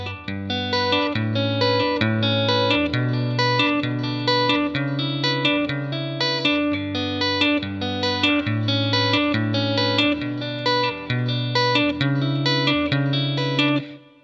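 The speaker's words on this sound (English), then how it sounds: "for the first riff, you're only moving the left hand up and the right hand is staying static, playing the same 2 notes" An electric guitar played through a compression effect repeats a riff of two steady notes against a shifting left-hand line, clean and evenly sustained, continuous for about fourteen seconds before cutting off.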